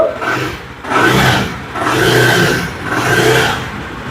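A 2022 410cc motorcycle with dual-channel ABS and a dual silencer, its engine revving in three loud, rising-and-falling swells at a second-hand bike showroom, close and steady with no talk.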